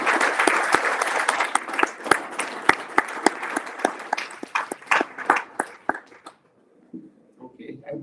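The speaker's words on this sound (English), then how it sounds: "I think one more round of applause" An audience at a Carnatic music lecture-demonstration claps in a dense, lively burst of applause that thins into scattered claps and fades near the end.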